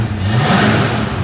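A 1973 AMC Hornet engine revving: a brief, loud, close roar that rises and holds with a throaty rumble.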